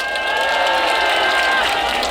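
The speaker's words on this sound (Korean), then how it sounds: "열정적인 유선해주신 신민호 원내대표께 뜨거운 박수 부탁드리겠습니다" Dense, steady applause from a large outdoor political rally crowd for a floor leader, with crowd noise, a few cheers and steady tonal sounds running through it across the whole stretch.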